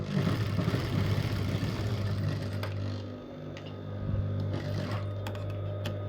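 A sewing machine stitches the neckline of a fabric short top, running in one loud, continuous whir close by that dips briefly midway, with no talking.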